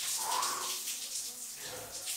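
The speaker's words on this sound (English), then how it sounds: "today I will have 2 consecutive minutes of cold shower" A cold shower runs in a steady hissing spray of water, close by, with a brief vocal-like tone near the start and no clear words.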